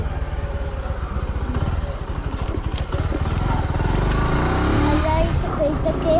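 A Discover 125 ST motorcycle is ridden on a road in Lima, Peru, its engine chugging steadily and close under ongoing conversation and wind.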